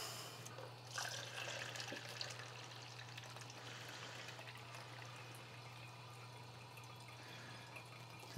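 C41 stabilizer chemical being poured out of a film developing tank at home without a funnel, a faint liquid trickle and splash over a steady low hum, quiet and continuous.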